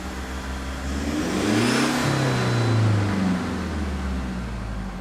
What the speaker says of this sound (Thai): เดี๋ยวจะลองเร่งรอบนะครับ